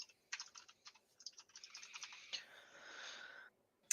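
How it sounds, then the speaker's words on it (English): Fast, uneven clatter of keys on a computer keyboard, a run of crisp clicks in bursts followed by a steadier dense stretch of typing, close and fairly quiet, with no talking. "I can tell with all that typing"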